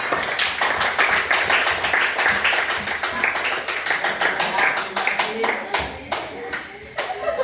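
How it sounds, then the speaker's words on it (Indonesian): Classroom applause for a classmate, a room of students clapping steadily and loudly together, a dense continuous patter that thins slightly toward the end, with a few voices underneath. "Kita beri aplaus untuk kawan."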